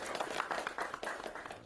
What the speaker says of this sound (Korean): 이럴 때 박수 주세요